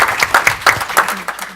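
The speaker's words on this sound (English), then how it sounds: "So quick round of applause for Tony Hughes." A small audience claps briefly for a speaker at a sales leadership forum panel, a short burst of scattered hand claps with a few distinct slaps standing out, fairly close and fading within a second or two.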